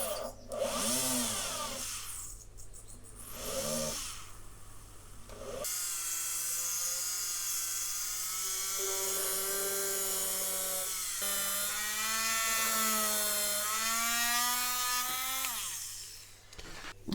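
A motor tool fitted with a 0.5mm drill bit boring small holes in a model ship part for a 1/200 Bismarck build, a high whining motor that starts after brief stop-start bursts and holds steady with slight pitch shifts.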